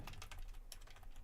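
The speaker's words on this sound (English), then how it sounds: "I can't even see what I'm typing" Fingers tap quickly and unevenly on a computer keyboard, soft and close, during a Japanese language study session, and a louder keystroke lands at the end.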